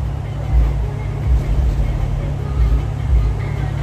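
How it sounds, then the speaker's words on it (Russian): Deep, rumbling engine drone of a car passing at a Japanese JDM car show, low and steady with slight swells, fairly close, and no speech over it. "О, какая машина поехала."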